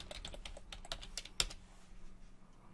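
A short burst of typing on a computer keyboard while a new folder is named: a quick run of close, faint key clicks that ends with a slightly louder keystroke, with no talking.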